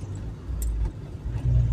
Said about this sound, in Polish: Natomiast jest stromy, bo już auto dosyć słabnie.